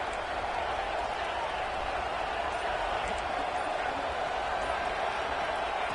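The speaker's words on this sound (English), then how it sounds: "Listen to the crowd energy here in the early going." Stadium crowd at a Purdue vs Miami football game roars in a dense, continuous wash of cheering and noise, steady and loud throughout.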